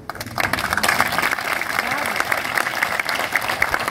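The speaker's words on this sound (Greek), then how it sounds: "Ένα ακόμα μεγάλο χειροκρότημα στα υπέροχα παιδιά μας" Sustained audience applause at a memorial event for the Distomo massacre anniversary, a dense steady clapping crowd filling the whole stretch after a brief quieter start.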